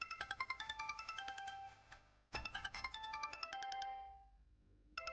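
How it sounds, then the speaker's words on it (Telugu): A phone ringtone plays a repeated melodic electronic tune, ringing in bursts with a short pause between, fairly clear and alone in a quiet home. "నీకు ఫోన్ వస్తుందే"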